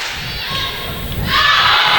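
Volleyball crowd in a gym cheering for the Mountain Lions, a steady roar of voices that swells louder partway through, with a thud near the start.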